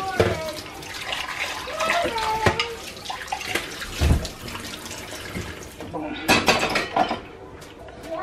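A tap runs and splashes while baby bottles are washed at a sink, with clinks of bottles and utensils and bursts of louder pouring, as a person talks over it.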